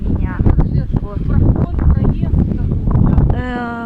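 Very strong wind blows through a street in Kyiv, a rough, blustery roar under someone talking close to the microphone throughout.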